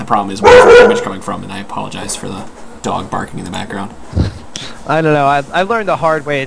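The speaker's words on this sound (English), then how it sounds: "I apologize for the dog barking in the background" A dog barks a few times in the background, close enough to register but kept under steady conversation between people recording a League of Legends podcast.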